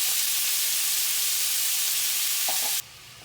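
Peppers and onions sizzle and fry steadily in a hot pan, a loud bright hiss with a brief stir near the end before the sound drops away.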